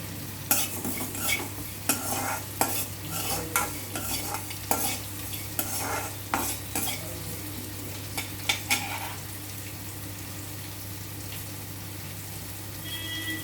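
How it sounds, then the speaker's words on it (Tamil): Cumin and fenugreek seeds fry in hot oil alongside sautéing brinjal for a veg biryani side, giving a steady close sizzle broken by sharp spoon scrapes and stirring clinks that fade out toward the end. "அதோட ஜீரகம் வெந்தயம் ரெண்டும் போட்டு பொறிச்சுக்கலாம்"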